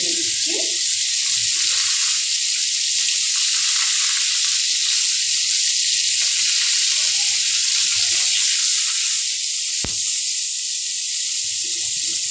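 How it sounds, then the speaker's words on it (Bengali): Onion paste fries in a pan with a loud, steady hissing sizzle that lasts throughout, with occasional soft stirring movements and one sharp click. "সেই পেঁয়াজের পেস্টটা আমি এর মধ্যে দিয়ে দিচ্ছি"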